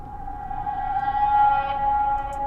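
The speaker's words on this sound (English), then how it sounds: "what I do is I just reverse it, pitch it to the right note" A reversed drum hit, pitched to a note and used as a beat transition, forms a sustained tonal swell that builds steadily over a couple of seconds.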